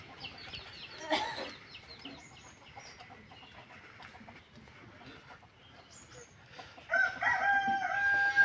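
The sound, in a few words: domestic chickens clucking and rooster crowing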